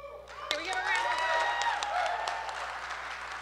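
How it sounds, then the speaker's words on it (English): Applause at an entrepreneurship event marking grants to HBCUs, steady mid-level clapping from the crowd sustained for a few seconds, with a voice speaking over it. "Can we get a round of applause?"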